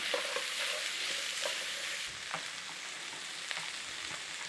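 Mince fries with onion, pepper and a pinch of thyme for a corned beef cottage pie, a steady close sizzle with soft scraping strokes as it is stirred, and no voices.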